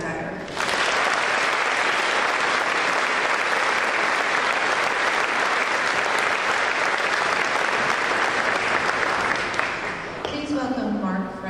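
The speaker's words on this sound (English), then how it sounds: "Please clap for Elizabeth McIntyre" Sustained, dense applause from an audience at a senior awards night fills the room for about ten seconds before dying away as a voice begins speaking.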